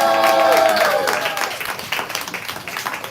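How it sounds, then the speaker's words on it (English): An audience at a live poetry slam claps and cheers for a poet, a dense burst of applause with whoops that gradually thins out, while a voice rises over the crowd at the start. "We clapping, we building energy, we making noise for Shereica Mitchell."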